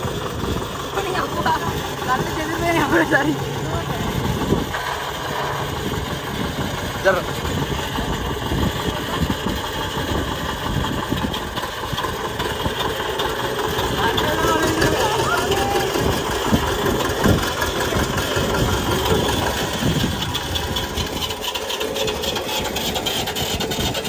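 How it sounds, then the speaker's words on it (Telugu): A tractor engine in a village field runs at a steady idle, a loud continuous mechanical rumble and clatter with people talking faintly over it throughout. "ట్రాక్టర్ ఆటోమేటిక్ స్టార్ట్ అయింది"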